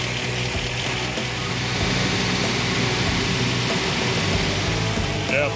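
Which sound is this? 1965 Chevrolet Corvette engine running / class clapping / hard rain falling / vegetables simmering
1965 Chevrolet Corvette engine running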